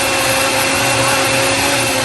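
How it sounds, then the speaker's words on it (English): A blender whirs steadily as it purées a raspberry smoothie, a loud, continuous motor drone with no talking. "So you just blend it all, guys. Blend it up. I have my blender here."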